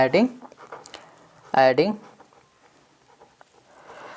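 Pen strokes scratch on paper as maths equations are added, short bursts of writing between stretches of a teacher speaking.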